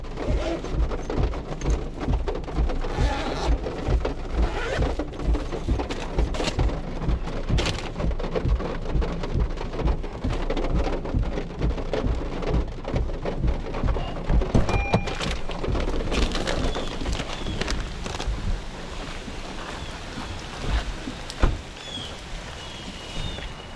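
Steady, heavy rain pours down outside during a delivery stop, with rumbles of thunder rolling through; the downpour stays loud and dense, easing slightly toward the end.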